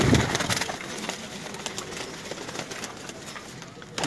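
Pigeons coo softly at a pigeon loft amid a busy flutter of bird sounds, with a faint mechanical hum in the background.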